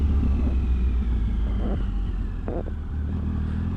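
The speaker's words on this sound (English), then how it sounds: "you've got that sort of deep exhaust note" A deep, rumbling Triumph Sprint ST1050 motorcycle engine idles close by, with a heavy low exhaust drone and a few brief throttle blips and clatters.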